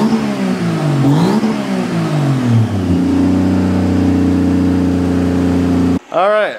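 A car engine revs hard, climbing and falling in pitch before settling into a steady, loud idle-like drone, then cutting out abruptly near the end.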